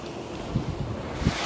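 Waves wash against rocks on the Lake Superior shore at Pictured Rocks, a dull wind-blown roar with a couple of soft surges.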